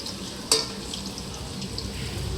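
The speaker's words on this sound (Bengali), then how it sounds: "এখানে আলু ভাজা হচ্ছে।" Potatoes fry in hot oil in a pan over a wood-fired stove, a steady close sizzle with a sharp metallic clink near the start and light stirring scrapes throughout.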